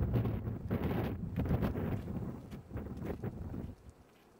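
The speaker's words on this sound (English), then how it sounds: "I don't know where that big gust of wind came from." A big gust of wind buffets the microphone outdoors in New Zealand, producing loud, rumbling, uneven roars and thumps that surge several times, then ease off toward the end, with no one speaking.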